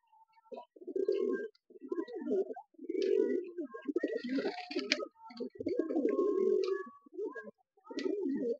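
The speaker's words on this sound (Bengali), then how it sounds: "এটা নর পায়রা" A male Kaldum pigeon coos close by in a steady series of throaty, rolling calls with short pauses between them, and faint chirps sound in the background.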